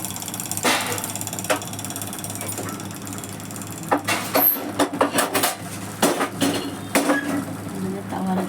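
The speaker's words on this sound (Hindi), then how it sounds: "मैंने तवा रख लिया है।" Iron tawa griddle set down on a stove for cooking aloo parathas, a few sharp metallic clanks and scrapes in a burst midway, with quiet kitchen background between.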